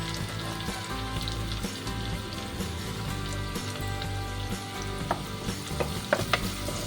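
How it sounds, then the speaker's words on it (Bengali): Green chillies and onions fry in a pan of oil for a kadhi curry, giving a steady close sizzle and crackle with a few sharper pops toward the end, no talking. "এই সময় কাঁচা লঙ্কাগুলো দিয়ে দেবো।"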